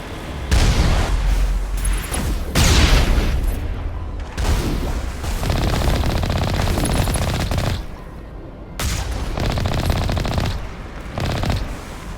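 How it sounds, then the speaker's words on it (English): Heavy weapons fire in the Mass Effect Legendary game: loud, rapid automatic bursts mixed with booming blasts, broken by brief lulls, continuing for most of the span. "All guns! Fire at will!"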